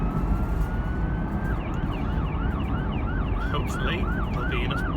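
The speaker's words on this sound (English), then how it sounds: "there's an ambulance." An ambulance siren wails in rising and falling sweeps, growing more prominent over a heavy rumble of traffic and engine noise.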